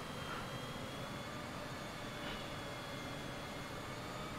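Steady, droning engine of a Cessna 172 in Microsoft Flight Simulator, a continuous broadband hum holding at an even, moderate level for several seconds with no talk over it.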